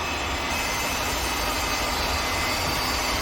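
A CNC lathe spindle runs with a loud, constant broadband roar and hum that fills the space without a break.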